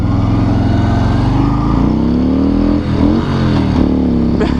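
Harley-Davidson Street Bob motorcycle engine revving loud and close, rising in pitch, then a brief dip as a gear shift is missed before the revs climb again.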